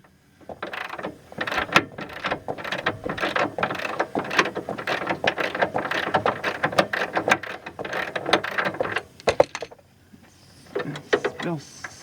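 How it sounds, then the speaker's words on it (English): A ratcheting breaker bar clicks in rapid bursts of sharp pawl ticks while being worked on a 2003 Ford Focus during a ball joint replacement, close and uneven with brief pauses, with occasional talk mixed in. "A ratcheting breaker bar was my other most recent event or purchase."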